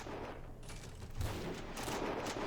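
Distant battlefield gunfire in a WW1 video game set in Belgium, faint and continuous, with muffled scattered shots and rumbling bursts under a steady background wash.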